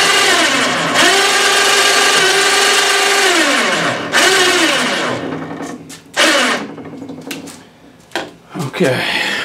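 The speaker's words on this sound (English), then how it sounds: "Let me spin it over with the drill." A power drill whirs steadily for a few seconds turning over a 15 HP Johnson outboard engine, its motor pitch dipping and rising, then stops and restarts in short bursts while someone speaks.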